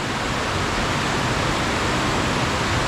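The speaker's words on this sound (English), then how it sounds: "I know that water loud." Loud, rushing floodwater flowing after a storm at a fishing spot fills the whole clip with a constant, broad roar and no pauses or voices.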